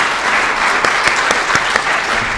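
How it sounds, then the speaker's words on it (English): An audience at a USDA-FDA joint public meeting applauds its moderators with steady, moderately loud clapping and a few sharper individual claps standing out, sustained without talk. "let's give a big round of applause to our moderators today"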